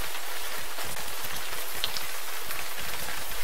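Steady rain pours in the video game Gemini Rue, an even, dense hiss of falling water that carries on without pause and with no talking.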